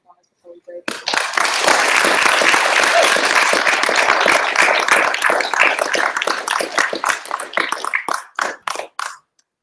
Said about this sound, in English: I do want to make sure we all give them a huge round of applause before we break